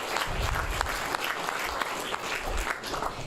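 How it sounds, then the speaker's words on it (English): Steady applause from a crowd at a city council meeting honoring a young gold-medal athlete, a dense wash of clapping that holds at an even level for the whole stretch without talk. "So applause to him."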